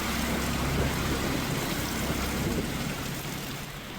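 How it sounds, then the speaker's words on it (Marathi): Heavy monsoon rain pours down in Mumbai as a steady, loud, broadband hiss of drops on surfaces, unbroken and even throughout, with no voices. "मुंबई धो धो पाऊस कोसळत आहे"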